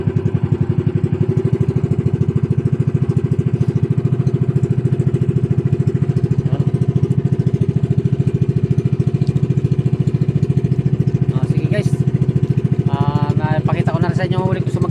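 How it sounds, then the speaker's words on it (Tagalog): A motor engine runs loud and close with a steady, throbbing drone throughout, and a voice speaks briefly near the end. "Tataas ko na guys ang andar ng makina ko para mabilis tayo makarating."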